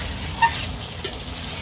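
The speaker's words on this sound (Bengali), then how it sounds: "তো আলুগুলো এখন দিয়ে দিচ্ছি, দিয়ে ভালো করে এর সঙ্গে একটু কষিয়ে নেব।" Steady sizzling of potatoes and meat being sautéed together in a pan, with two brief scraping stirs cutting through a constant hiss, close by and without talk.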